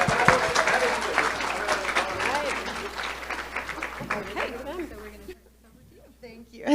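Audience applause at an awards celebration and auction, a dense steady clapping crowd with voices and cheers mixed in, fading out near the end.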